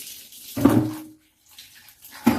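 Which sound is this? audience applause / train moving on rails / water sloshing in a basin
water sloshing in a basin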